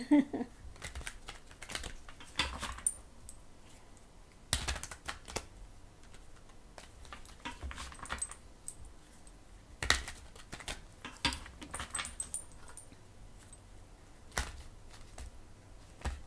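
Tarot cards are shuffled in soft repeated riffles and taps, quiet and close, with occasional sharper snaps between the bursts.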